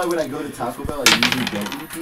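Dice rolled onto a table during a tabletop wargame, a clattering tumble of hard plastic hits and rattles, close and fairly loud, with faint voices in the background.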